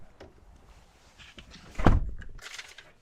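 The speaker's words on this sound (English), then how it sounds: "Hatch closes pretty quickly." Rear hatch of a 2022 Infiniti QX55 Sensory coupe-styled compact SUV swings shut with a single solid thunk, close and fairly loud, followed by a brief rattle amid quiet background.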